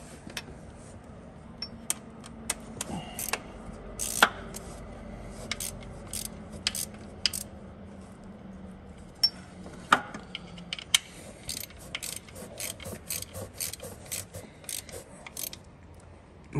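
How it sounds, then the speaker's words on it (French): A small ratchet with a 13 mm socket tightening bolts on a VW Polo 6N, bursts of quick clicking pawl strokes with pauses between, close and crisp, no talking over them. "Donc là, bah, clé de 13. Donc j'avais pris le petit cliquet qui va bien. On va commencer par serrer le bas."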